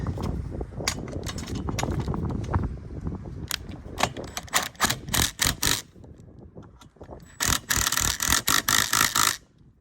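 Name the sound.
tightening fastener on Bronco roof rack extension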